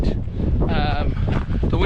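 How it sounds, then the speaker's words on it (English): Cold, icy wind gusting across an exposed hillside, buffeting the microphone in loud rumbling bursts while a voice talks over it. "And it is really icy, and really windy."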